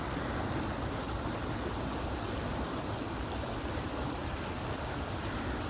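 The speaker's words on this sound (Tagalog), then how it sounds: "ganito palang ilog na napakaganda" Continuous rushing of flowing river water, a steady broadband wash with no voices, close and even.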